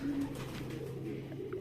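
A pet flying pigeon coos softly on a rooftop, a short low-pitched throaty coo heard close but faint against quiet background noise.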